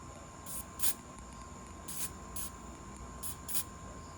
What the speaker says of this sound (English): Just a soft spritz